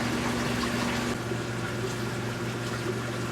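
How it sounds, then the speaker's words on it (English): Water rushing through the siphon drain of a Carlson Surge Maker on a reef aquarium, a steady dense gurgling flow with a low hum underneath. "There's a siphon arrangement here on the side that as they fill up, they force the air out of that siphon, and in turn the water then comes down."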